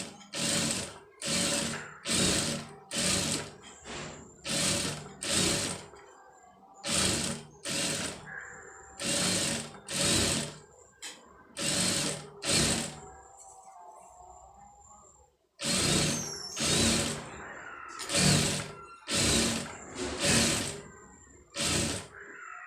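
Sewing machine stitching ready-made piping along the thread edge, running in repeated short bursts about a second long with brief pauses between them, loud and close, with no talking.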